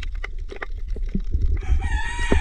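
A rooster crows nearby over low rumbling background noise, with a few soft clucks before the drawn-out crow.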